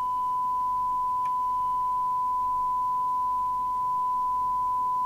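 A steady, unbroken pure tone hums from a Rotel RVC220 UK FM CB radio, recovered from a signal-generator feed while its FM detector coil is tuned. It stays level and clear throughout, with one faint click near the middle.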